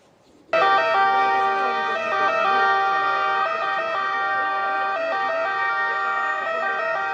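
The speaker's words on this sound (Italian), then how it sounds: "Il suono delle sirene questa volta vuole rappresentare un saluto alla città di Trieste." Sirens of police, carabinieri and other emergency vehicles in Trieste wail together in a steady, loud chorus, starting abruptly after a brief quiet moment and sustaining with overlapping rising and falling tones to the end.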